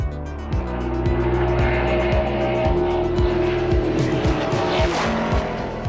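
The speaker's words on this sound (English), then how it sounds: "I was testing our Cup car" A Cup race car runs hard on a big oval track, its engine roaring loud and near with repeated rising gear-shift sweeps, tire squeal and skidding layered over the constant drone.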